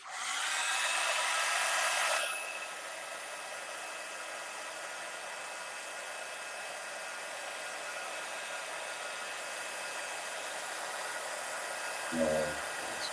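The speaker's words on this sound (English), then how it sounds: "I'm going to apply gold embossing powder over it. It sticks. Probably you cannot tell now. I'm going to heat set it." An electric heat tool blows hot air to set gold embossing powder. Its loud, whirring rush comes up close at first, then settles into a steady, softer hum for many seconds, broken by a brief knock near the end.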